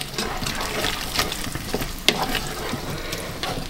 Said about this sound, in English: So let's go in with our chicken and our bacon. Stir those through.